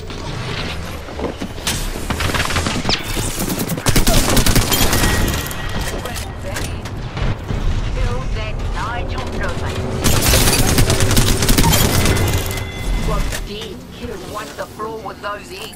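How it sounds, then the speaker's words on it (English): Bursts of rapid gunfire and mechanical clatter from the Apex Legends video game, loud and close, heaviest in two dense stretches, with voices talking over the action. "Third shot fired and they're hitting me."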